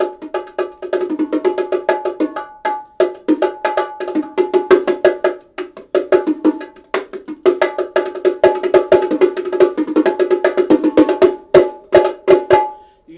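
Remo bongos struck by hand in a quick, steady rhythm, bright slaps and deeper open tones alternating, played alone and close.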